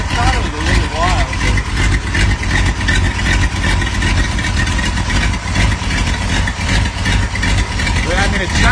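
A Ford 59AB flathead V8 for a 1934 roadster runs at a lumpy, loping idle on an engine stand, loud and close and steady throughout, with people talking over the rumble.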